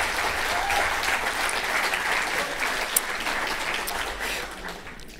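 An audience applauding after a song at a commemoration event, a steady wash of clapping from a moderately sized crowd that slowly thins out toward the end.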